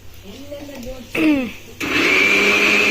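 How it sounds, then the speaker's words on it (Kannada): Brief voices, then a mixer grinder starts up and runs with a loud, steady high-pitched whine. "ನಮ್ಮ ಆಂಟಿ ಖಾರ ಮಿಕ್ಸಿ ಹಾಕ್ತಿದೆ"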